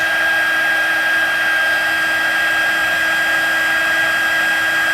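A heat tool blows steadily for heat embossing a card, a loud close whir with a constant hum and no talking.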